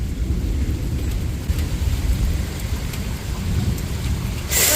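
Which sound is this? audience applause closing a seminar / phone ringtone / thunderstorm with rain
thunderstorm with rain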